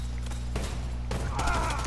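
Gunfire bursts in the video game Predator: Hunting Grounds, a few sharp volleys over a low droning game soundtrack, with a faint voice in the mix.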